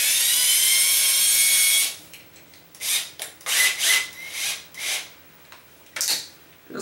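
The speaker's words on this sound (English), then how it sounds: "Drill sounds." A power drill clears the screw holes in a 3D printer part, with a steady whirring hum for about two seconds, then a series of short, uneven bursts as the bit grinds through each hole.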